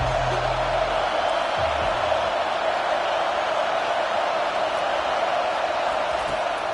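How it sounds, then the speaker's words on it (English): Stadium crowd noise from the College Football 25 video game fills the scene as a steady, broad wash of roaring fans, loud and unbroken, with a brief low tone early on. "This crowd bringing the energy and noise early."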